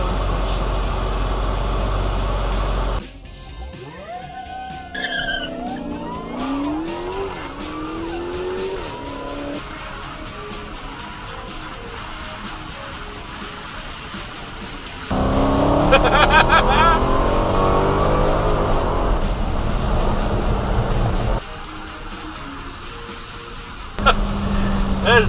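A Dodge Challenger Hellcat Redeye launching for a drag run, its loud engine note rising and falling through gear changes with sweeping pitch, tire squeal and skid bursts, near and powerful from start to finish.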